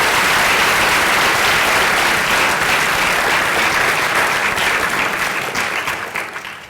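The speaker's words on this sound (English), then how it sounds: "Give him a big round of applause." A ceremony crowd at the All-American Band Selection gives loud, dense applause that holds steady, then tapers off at the end.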